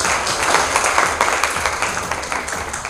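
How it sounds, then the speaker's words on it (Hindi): Audience at a Sultanpur tricolour rally applauding a child who has just recited a patriotic poem, a busy spread of many hands clapping close and steady for about three seconds. "तालियां तो होनी चाहिए इनकी"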